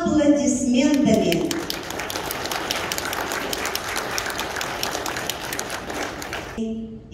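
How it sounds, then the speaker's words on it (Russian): Audience applause at a closing ceremony of a draughts-64 world championship for players with disabilities, a steady wash of clapping that carries through, with speech audible at the start and end. "давайте поприветствуем друг друга бурными аплодисментами"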